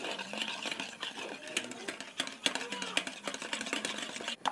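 Eggs being beaten for cake batter, a busy clatter of a whisk or beater against a bowl, rapid and uneven, close and moderately loud, with no voices heard.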